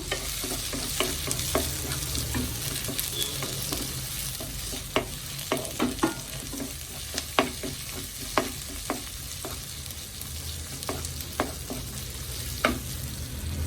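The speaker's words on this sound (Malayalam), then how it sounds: "സവാള നന്നായിട്ടൊന്ന് വഴറ്റിയെടുക്കണം അഞ്ച് പച്ചമുളക് ചേർത്ത് കൊടുക്കാം" Sliced onions and green chillies sautéing for prawn perattu, a continuous low sizzle broken by regular, sharp taps and scrapes of a spoon stirring the pan.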